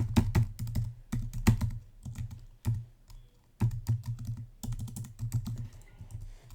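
Fast typing on a computer keyboard, close and crisp, in bursts of rapid key clicks separated by short pauses, with no voices.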